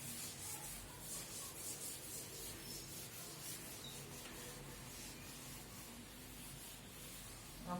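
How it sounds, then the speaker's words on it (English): Chalk or marker being rubbed off a classroom board, a steady continuous scrubbing texture lasting several seconds, fairly close, with no talking. "So let me rub the previous 3 questions which we have solved."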